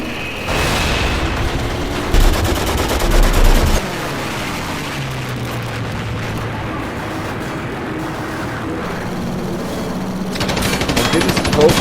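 A ball turret machine gun in a Garry's Mod air raid over an industrial complex, with loud bursts of gunfire near the start and again at the end and quieter engine and rumbling noise in between.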